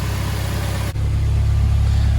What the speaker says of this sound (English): Got you guys a sound clip of the exhaust.